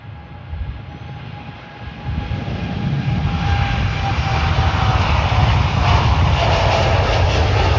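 An Emirates airliner taxis at Manchester Airport, its jet engines a loud, steady roar and whine that swells gradually as it draws nearer, heard on its own without talking.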